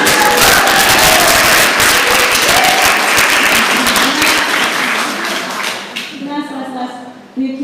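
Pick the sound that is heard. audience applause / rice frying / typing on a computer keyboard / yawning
audience applause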